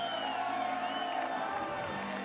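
A crowd at the Villars 2023 speed climbing finals cheers and whoops for climber Emma Hunt, a broad, lively roar with some tonal sounds in the mix.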